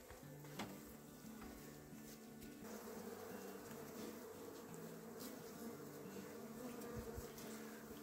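Honeybees at an apiary give a steady, quiet buzz that holds throughout, with a few individual bees droning past close by.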